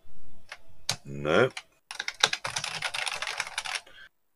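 Computer keys are pressed in quick, faint clicking bursts while a ZX Spectrum game is played, with a short vocal sound near the start and a gap of silence before the rapid tapping resumes.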